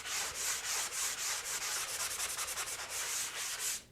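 Rhythmic sanding strokes rasp back and forth across dried spackle on drywall, steady and close, a gritty scratching with no voices.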